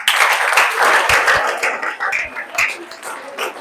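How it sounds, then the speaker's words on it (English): Nigerian students at a drug-abuse awareness campaign rally clap and applaud in a dense, continuous burst, with a few louder individual claps standing out and voices mixed in. "Clap for yourselves."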